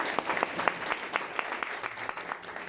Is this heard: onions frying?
no